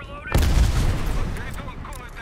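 A gunship weapon fires in Call of Duty Black Ops Cold War: one heavy, close booming blast hits hard and then rolls off into a long, fading rumble.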